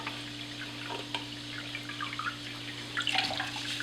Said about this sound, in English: I'll take the opportunity at this time as well to clean my filter media.